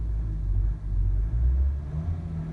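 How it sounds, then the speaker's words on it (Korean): Inside a Hyundai Veracruz cabin, the engine swells into a low, muffled rumble as the accelerator is pressed, rising and easing in a couple of short surges without any voice. "자, 악셀 한번 밟아 보겠습니다."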